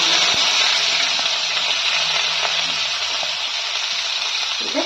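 Finely chopped garlic and onion fry in a pan for a cashew curry, giving a continuous close sizzle with faint scrapes and stirring noises throughout.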